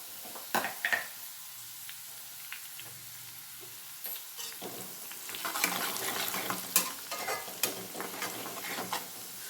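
Spicy chicken frying in a pan with turmeric added: a soft, close sizzle broken by spoon scrapes and clinks, growing busier and crackling more toward the end.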